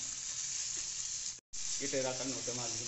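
Lotke fish frying in a pan with ginger-garlic paste as it is stirred, a steady close sizzle cut by a brief silence, then resuming with a voice talking over it.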